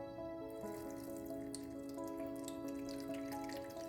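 Carrot and beetroot juice trickles steadily through a small kitchen strainer, a soft continuous pouring and dripping sound close by with no voices.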